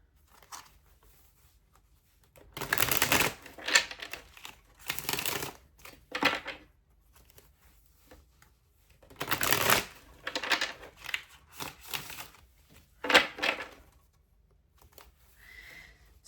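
Tarot cards shuffled by hand in bursts of riffling and sliding, a few longer rushes separated by quiet pauses, close and crisp with no talking.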